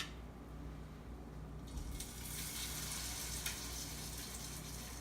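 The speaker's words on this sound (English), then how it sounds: "now we're going to put our black bean burgers in the hot pan" Homemade black bean burgers sit in a hot pan, giving a quiet steady frying hiss that swells into a brighter, louder sizzle after a couple of seconds, with no talk.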